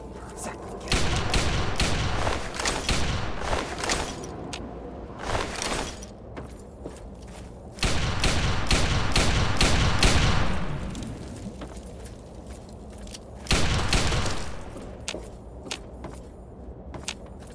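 Bursts of gunfire in Fallout 3 come in three heavy clusters of rapid shots and booms, loud and close, separated by quieter stretches.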